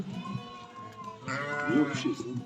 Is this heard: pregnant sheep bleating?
yes